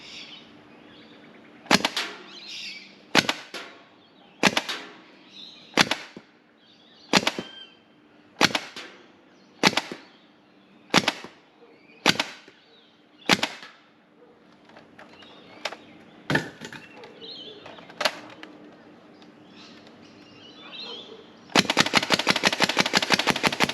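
A Nerf Longshot blaster with a full-auto HPA mod fires Worker Red Gen 2 foam darts, ten sharp, evenly spaced semi-auto shots followed by a fast, continuous full-auto magazine dump at the end, loud and close.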